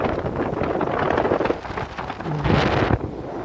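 Rain and thunder on a mountain road during a motorbike ride from Silchar to Shillong, a dense rushing wash of rain and wind buffeting the microphone, with a low rumble and surges, loud and close.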